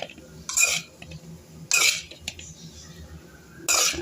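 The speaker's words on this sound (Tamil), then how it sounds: "நல்லா இப்படி சாப்பாடை போட்டு மிக்ஸ் பண்ணிடணும்." A metal spoon scraping and clanking against a kadai while cooked rice is stirred for egg rice, three sharp separate bursts with a quiet pause between them, no talking.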